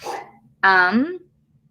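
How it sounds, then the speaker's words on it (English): A single drawn-out dog bark, close and loud, rising into a whine at the end, just after a brief murmur of voice. "That was my dog."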